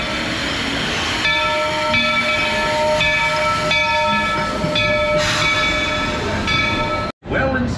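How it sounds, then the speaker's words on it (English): The Magic Kingdom railroad train pulls away from Main Street Station, with a steady rumble and hiss overlaid by sustained whistle-like tones, carrying on continuously before a sudden brief dropout near the end. "We're currently departing Main Street Station."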